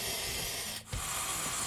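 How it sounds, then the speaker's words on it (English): A drill bores a pilot hole into a wooden storm window frame, a steady close whirring rasp with one brief dip partway through as the bit pauses. "We're pre-drilling,"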